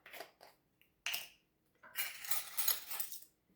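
A teaspoon clinks against a container while a half teaspoon of turmeric is measured for a lemon and ginger elixir, giving a few sharp metallic taps followed by a longer rattling scrape, close and quiet.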